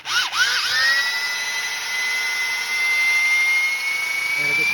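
A drill with a paint mixer whirs steadily at high pitch, spinning up quickly and holding a constant grinding whine as it stirs sand.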